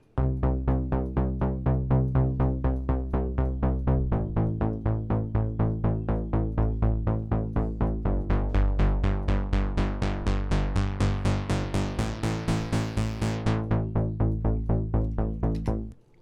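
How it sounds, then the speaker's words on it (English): A synthwave bass patch modelled on the Korg Polysix Fat Line preset pulses in a steady, driving run of even notes, loud and alone, its tone brightening and opening up midway before closing back down and stopping. "I tried to recreate the fat line bass sound, which was a specific name of a preset that came in the Korg Polysix"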